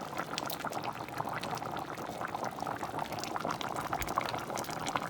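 Coconut cream poured into a pot of stewing plantains and peas, a dense, steady bubbling and simmering texture that runs unbroken at close range with no talk.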